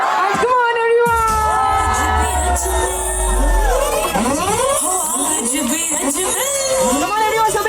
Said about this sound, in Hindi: हमारे दूल्हे राजा और हमारी ब्राइड के लिए एक बार जोरदार तालियां